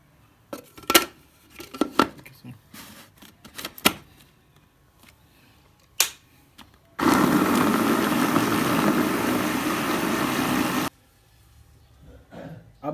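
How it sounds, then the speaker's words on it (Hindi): A food grinder roars loudly and steadily for about four seconds while grinding chicken for nuggets. Scattered clicks and clatter of handling the jar come before and after it. "अब हम इसको ग्राइंड करेंगे"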